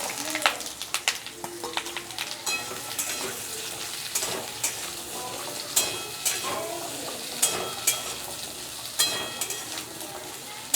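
Potato and pumpkin pieces fry in mustard oil in a wok, with a soft, continuous sizzle broken by periodic sharp clinks and scrapes of a spatula stirring against the metal.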